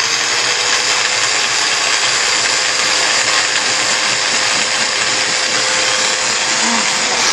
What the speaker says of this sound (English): we're going to pour this whole can into our little mini food chopper here